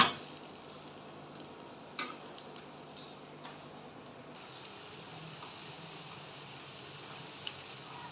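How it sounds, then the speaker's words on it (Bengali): Ingredients fry softly in a pan while mutton keema ghugni with peas is cooked, a faint steady sizzle with a few light clinks of a utensil against the pan. "সব কটা একসাথে ভেজে নেবো ভালো করে একটু নরম হতে থাক"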